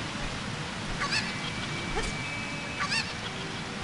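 Cucco chicken clucks from The Legend of Zelda: Ocarina of Time, two short squawking bursts a couple of seconds apart over steady game background noise.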